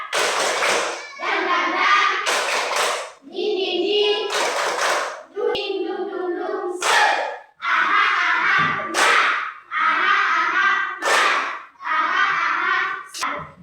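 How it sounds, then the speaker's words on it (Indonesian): A classroom of students performs the 'tepuk semangat' spirit clap, a patterned rhythmic clapping routine in bursts of claps, loud and close, with children's voices chanting along between and over the claps. "Berdiri semua. Tepuk semangat."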